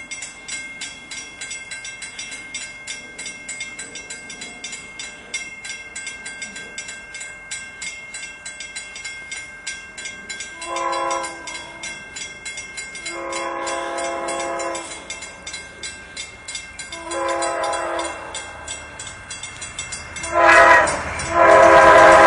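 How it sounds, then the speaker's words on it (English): An Amtrak passenger train approaches at speed through the Oakwood Avenue grade crossing, its horn blaring in a series of long and short blasts that grow louder as it nears, with a steady rumble and no talking. "here comes Amtrak 54 about to fly through Oakwood Avenue"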